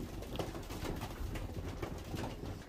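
Young racing pigeons coo softly inside a loft, faint low burbling calls repeating over a muffled hum of background noise.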